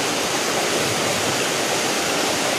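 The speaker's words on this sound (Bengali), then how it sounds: "দেখো এখন কত স্পিডে জল পড়ছে, কোথায় গিয়ে জল পড়ছে।" Rainwater gushes hard and fast from the mouth of a roof drain pipe that had been blocked and just cleared, a loud, dense, unbroken splashing roar filling the whole stretch.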